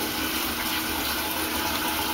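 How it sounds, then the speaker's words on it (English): Water runs steadily from a kitchen tap during dishwashing, a constant close hiss and splash with no break and no voices. "My daughter is running water,"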